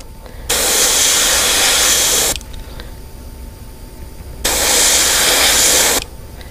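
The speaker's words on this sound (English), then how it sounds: "always, again, spray into the stencil." Two long bursts of aerosol spray paint hiss through a stencil onto jerkbait fishing lures, each about two seconds, separated by a quieter pause with faint handling noise.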